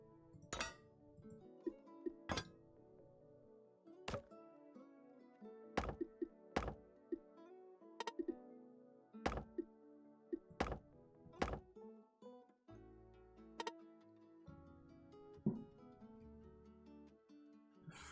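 Fireworks go off outside on a June night, distant sharp bangs and thumps heard singly and in scattered bursts over about eighteen seconds, faint and muffled under quiet background sound.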